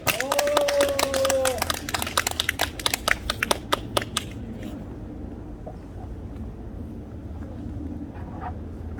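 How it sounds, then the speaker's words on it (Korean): An audience at a youth political gathering gives scattered handclaps for a few seconds, which then fade into quiet outdoor ambience. "박수 한번 쳐주시기 바랍니다."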